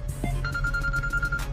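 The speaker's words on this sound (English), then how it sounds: "Gotta get this phone call." A phone ringtone plays over a low steady rumble inside a parked Dodge Challenger Hellcat, a thin sustained electronic tone signalling an incoming call, moderately loud and alone without talk.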